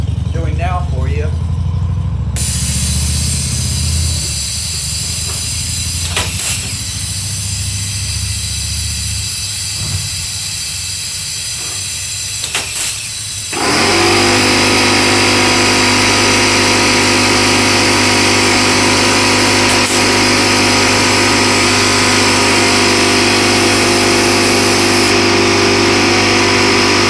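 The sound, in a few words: small Porter Cable air compressor running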